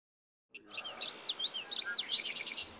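Marsh birds, rails at a coastal wildlife refuge in New Jersey, call from the reeds with a series of faint, quick chirping notes over quiet background hiss, starting after a brief silence.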